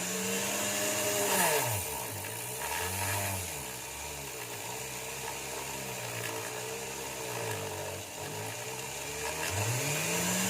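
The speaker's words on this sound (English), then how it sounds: "So I've got buffing wheel here and some of that lovely green polishing compound." A buffing wheel loaded with green polishing compound spins with a whirring motor tone that repeatedly rises and falls in pitch as the work is pressed against it, close and continuous.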